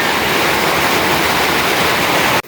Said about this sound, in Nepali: त्यो खोलाबाट चाहिँ अहिले यत्रो ठुलो बाढी आउँछ, म हजुरलाई देखाउँछु है।